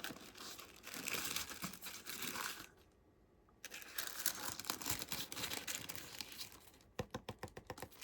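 Crinkling and rustling of Dior perfume packaging as a ribbon and sticker are removed, with dense close crackles, a brief lull, then more handling ending in a run of sharp clicking taps.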